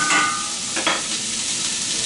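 Onions sizzle steadily in a pot for broccoli and cheese soup as a wooden spoon stirs them, making a couple of soft scrapes under the constant frying hiss, with no talk.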